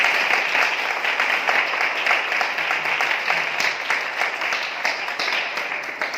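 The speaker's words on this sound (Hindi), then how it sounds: "हम जोरदार तालियों से उनका स्वागत करते हैं" A large church assembly crowd applauds steadily and loudly, dense clapping filling the whole stretch without a break.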